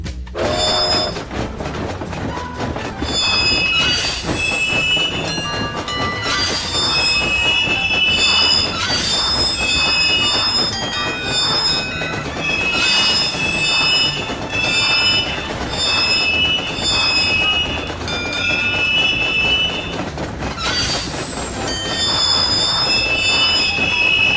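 A train in the Monopoly game on Xbox 360 runs along the tracks, its loud steady rumble and squealing wheels continuous throughout, with bright tonal layers on top.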